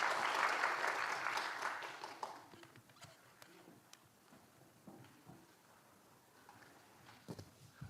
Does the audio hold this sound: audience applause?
yes